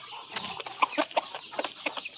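A native rooster clucking and squawking nearby in a rapid, uneven series of calls.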